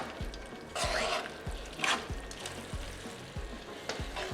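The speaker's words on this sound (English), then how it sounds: "stir this or toss it around so that all of the spaghetti gets coated with the sauce" Spaghetti stirred and tossed through tomato sauce in a hot pan with shrimp, a soft sizzle broken by wet, rhythmic scraping and clacking strokes, fairly close and faint, with a brief throat clear.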